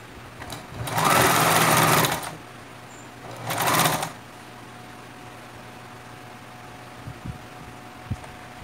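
A sewing machine stitches the hem of a tulle tutu skirt in two bursts, the first about a second long and the second shorter, followed by quiet room tone and a couple of faint clicks.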